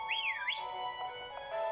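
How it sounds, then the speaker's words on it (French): A player character whistles in the Pokémon Shield video game, a short rising and falling melodic whistle followed by steady game music tones. "pourquoi je siffle moi?"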